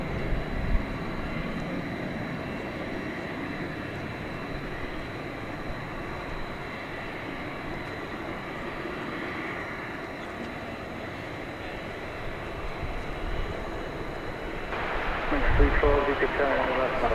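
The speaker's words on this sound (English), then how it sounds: "A little bizjet coming in." A small business jet comes in to land at DFW Airport at night, a steady broad engine roar heard from a distance that holds evenly and swells slightly near the end, with no one talking.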